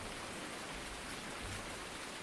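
Steady rain falling in Farming Simulator 19, a dense, even hiss of drops with no talk over it.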